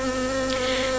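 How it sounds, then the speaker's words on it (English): Honey bees from hives in a wild island clearing drone in a steady, close buzz with a strong humming tone, continuous and alone. "the only sound that he would be hearing would be the buzzing of the bees"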